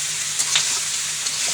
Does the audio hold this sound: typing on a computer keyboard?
no